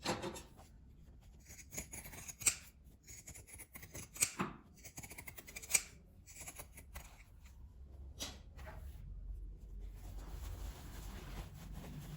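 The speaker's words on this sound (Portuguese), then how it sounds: "Agora eu vou picotar essas partes arredondadas também." Pinking scissors trimming the rounded parts of a small fabric wallet, with several crisp snipping cuts and quiet rustling of the material, close and faint.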